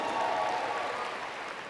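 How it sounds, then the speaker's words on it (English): Audience applause at a business seminar, a dense burst of clapping that starts loud and holds steady, fading slightly toward the end, with no speech over it. "My mentor, John Jones, please give him a round of applause."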